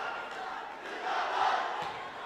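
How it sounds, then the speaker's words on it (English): Volleyball crowd at an Asian zone match between Sri Lanka and Pakistan, a fan chanting slogans amid a continuous roar of indoor spectators, swelling briefly at mid-clip. "He's chanting slogans."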